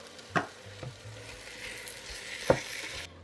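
Ground meat browning in a pot for low-carb chili, a gentle steady sizzle with two sharp spoon scrapes or knocks against the pot, close by and without speech.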